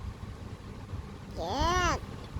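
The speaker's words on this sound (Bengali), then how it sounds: "শিবাই [[ক্যাটটা ডাক দাও]]।" A single drawn-out cat meow, rising then falling, rings out near the end over faint room background, fairly close and alone.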